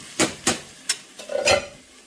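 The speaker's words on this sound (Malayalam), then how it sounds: "നല്ലതുപോലെ നമുക്കിതൊന്ന് മിക്സ് ചെയ്തെടുക്കാം" A spoon scrapes and knocks through rice in a pan for moringa ghee rice, giving four or five short separate strokes followed by a brief faint sizzle, close by with no voices.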